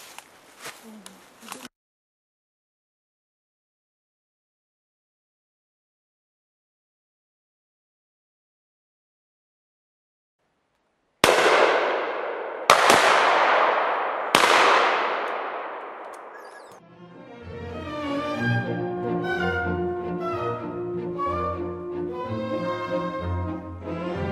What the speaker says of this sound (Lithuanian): Palei šautuvo vamzdį pasukt ir tada šauja.